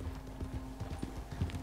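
Horse hooves thud in Red Dead Online, a quick run of close clip-clopping steps over a low steady hum.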